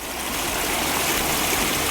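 Fast floodwater rushes across a road in Sawai Madhopur, Rajasthan, after heavy rain, roaring steadily and loudly, a continuous broad wash with no voices.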